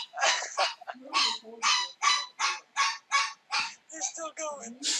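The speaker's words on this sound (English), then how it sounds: "I'll tell you when the dog's done yelping." A dog yelps repeatedly and loudly nearby, a steady train of sharp high cries that turn into thinner squeaky whimpers toward the end.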